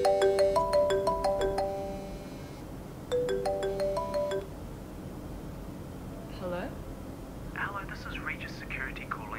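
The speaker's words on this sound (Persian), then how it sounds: "یه شماره ناشناس دیگه بهش زنگ زد" Mobile phone ringtone for an incoming call from an unknown number, a bright melodic electronic tune in two repeated bursts, fairly near, followed by quieter background noise with faint rustles.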